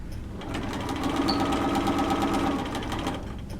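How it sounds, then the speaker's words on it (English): Sewing machine running steadily at close range, its needle chattering in a fast even rhythm while stitching down fabric for a French seam, building slightly then easing off near the end. "Make sure you're back stitching all the way off your fabric, and then just go ahead and sew down."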